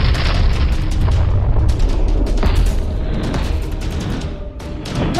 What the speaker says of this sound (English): No, they're throwing bombs.